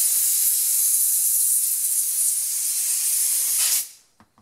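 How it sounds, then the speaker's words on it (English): Compressed air blasts in a steady, loud, close hiss through a chainsaw's guide bar groove for almost four seconds, then cuts off, leaving a few faint clicks. "if you have compressed air, this isn't critical, but I like to blow it out."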